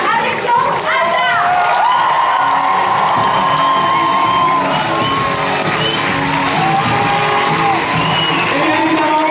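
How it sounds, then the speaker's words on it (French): A loud crowd at a film premiere in Paris cheers, shouts and whoops continuously for director Alexandre Aja, with high excited voices rising over the general din. "merci aussi d'applaudir, s'il vous plaît, le réalisateur du film, Alexandre Aja"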